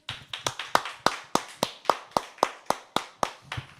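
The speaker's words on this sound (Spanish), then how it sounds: "¿Puedes darle un aplauso ahí donde estás?" Steady clapping from a small group, about a dozen sharp claps at an even beat, near and distinct with short gaps between them.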